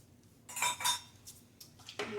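Washing soda and borax being stirred together in a container for homemade laundry detergent, giving a few scraping, clinking stirs at close range with short pauses between strokes.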